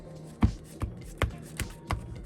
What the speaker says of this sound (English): shuffle this up a little bit more